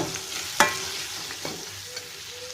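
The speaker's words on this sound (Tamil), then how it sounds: "மிளகாத்தூள் மல்லித்தூள் கொஞ்சம் சாம்பார் பொடி அது எல்லாத்தையும் இதில் போட்டோம் போட்டுட்டு நல்லா வதக்கி விடுங்க" Chilli, coriander and sambar powders sautéing in a pan for brinjal thokku: a soft frying sizzle broken by a sharp scrape of a spoon stirring, then a few lighter clinks, close and quiet with no talk.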